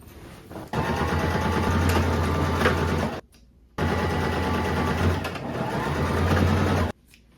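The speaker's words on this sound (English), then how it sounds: "make a triangle like this, and then sew straight down" Sewing machine stitching darts into a gingham dress, running in two steady bursts of about two and a half and three seconds, with a short pause between them and a close, even mechanical whir.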